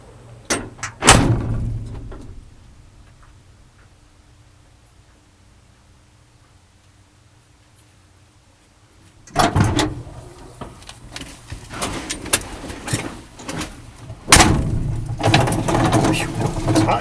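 A 1972 Chevy Custom 10 pickup truck's door thumps shut near the start, followed by a quiet cab, then loud shuffling and bumping as someone settles in and handles the door again.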